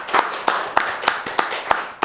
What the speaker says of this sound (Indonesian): Boleh tepuk tangan nggak?